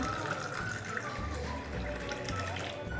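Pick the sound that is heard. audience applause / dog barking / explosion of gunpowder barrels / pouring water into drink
pouring water into drink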